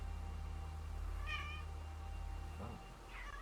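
A house cat meows twice indoors, a clear close call followed by a shorter one, over a steady low electrical hum with no talking.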